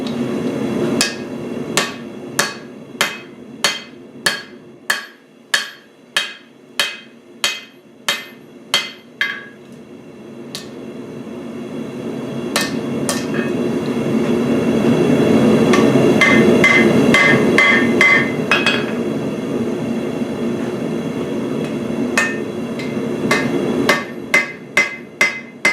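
Metal hammered on an anvil while a hawk is forged, a quick run of about fifteen sharp ringing blows, then a pause filled with a loud noisy spell, and a few more strikes near the end.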